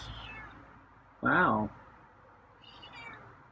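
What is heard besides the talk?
cat meowing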